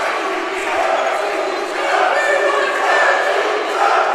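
A home crowd in a gym chants and cheers during a college women's volleyball match, a dense, steady roar of many voices filling the room throughout.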